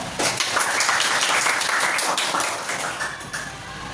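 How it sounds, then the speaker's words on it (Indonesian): A classroom of students clapping together for several seconds, a dense, fairly loud patter of many hands that stays steady before thinning slightly toward the end, with no talking over it. "Tepuk tangan dulu buat semuanya."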